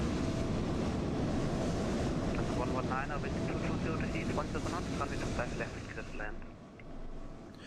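Lufthansa A380 taxiing in Microsoft Flight Simulator 2020 at Frankfurt: a steady broadband jet engine roar with whining tones, fairly constant, easing slightly toward the end.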